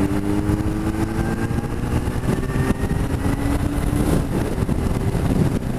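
A motorcycle engine is revved high before a gear change, a loud, close, rough roar whose pitch climbs steadily over several seconds.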